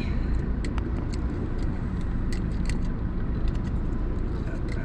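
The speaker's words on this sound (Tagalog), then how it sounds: "Naiipit tayo ng traffic." Heavy, slow-moving car traffic on EDSA near Guadalupe heading toward Cubao makes a close, continuous low rumble of engines and tires, with faint clicks and light rattles scattered on top.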